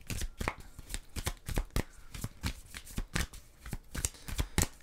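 Brisk, continuous riffling of a deck of oracle cards being shuffled by hand close up, with rapid rhythmic flutters and soft slaps repeating throughout and no talking.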